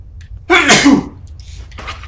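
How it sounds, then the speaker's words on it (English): A single loud, close sneeze bursts out, followed by a faint exhale and quiet rustling. "I gotta sneeze."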